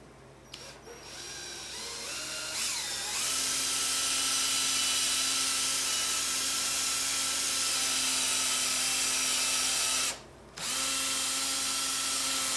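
A power drill spins a polishing compound pad over an old metal surface, running as a steady, loud whine for about ten seconds. It stops abruptly, then starts again, with no voices over it.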